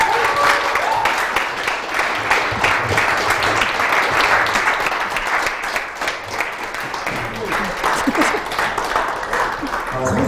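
Audience applause after a lecture, dense sustained clapping from a large hall crowd that continues steadily throughout, with a voice faintly talking underneath.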